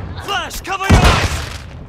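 A flashbang grenade bursts in a first-person shooter video game: a deep booming blast with a sharp crackling shatter, heard under brief voices and game chatter.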